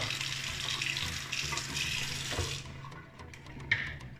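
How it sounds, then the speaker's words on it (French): Cold tap water runs over a plastic figurine in a sink, a steady close splashing stream that cuts off midway, followed by a few small drips and clicks. "je le passe à l'eau froide"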